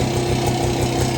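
A 1961 Harley-Davidson Super 10 motorcycle engine idles a little fast, with a steady, close throbbing rhythm and no other sounds.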